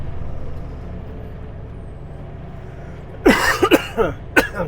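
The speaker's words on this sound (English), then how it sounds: "Let's try not to cough." A few sharp coughs burst out inside a truck driving through Vancouver city streets, after several seconds of steady road and engine rumble, close and loud against the background.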